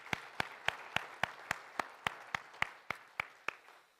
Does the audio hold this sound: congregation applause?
yes